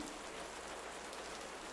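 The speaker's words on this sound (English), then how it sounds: "You heard the rain on the tin." Steady rain patters on a tin roof, a dense, even hiss that holds constant throughout with no voices.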